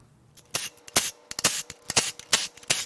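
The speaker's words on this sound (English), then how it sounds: "and then we'll crack all these cam caps loose." A series of sharp metallic cracks and clicks, irregular and close, as tight cam cap bolts on a Toyota 2UZ V8 engine are broken loose with a wrench.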